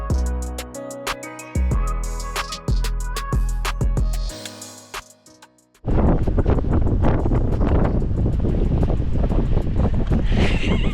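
Strong wind roars against a car parked in Shotgun Canyon near Exmouth, a loud, steady broadband rush that kicks in suddenly partway through after a quieter stretch of tonal music-like sounds.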